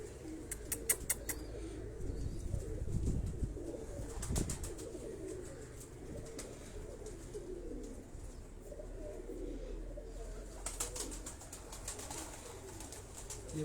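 Sialkoti pigeons coo in low, throaty repeated calls, a couple of stronger coos near the start then softer ones, over faint background chatter of other birds and occasional sharp clicks.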